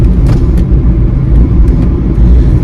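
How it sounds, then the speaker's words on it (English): Steady road traffic rumble pours in through open car windows on a hot, humid English day, a continuous loud low drone of passing vehicles with no talk over it. "which will mean that you can hear a lot of traffic noise"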